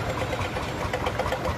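A John Deere 730 diesel tractor engine idles at a steam rally, giving a steady, close, rough low rumble with a faint knocking pulse running throughout.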